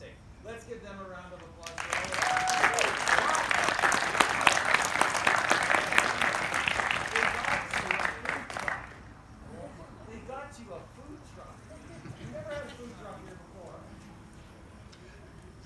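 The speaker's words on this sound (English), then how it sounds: "Let's give them a round of applause." Graduation ceremony audience breaks into a loud round of applause that lasts several seconds, then fades out, leaving quieter talk and chatter.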